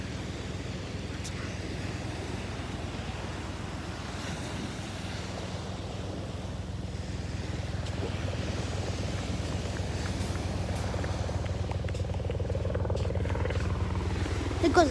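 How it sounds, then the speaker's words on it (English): A helicopter passes over a beach by a jetty, its low droning hum building gradually over steady surf and wind noise, growing louder toward the end. "There goes a helicopter."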